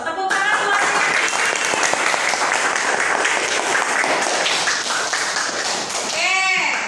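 A classroom of students claps loudly for a classmate, a dense, continuous burst of close applause that fades near the end as a voice comes in.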